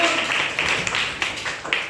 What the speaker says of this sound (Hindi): तो जोरदार ताली बजाइए, खड़े हो जाइए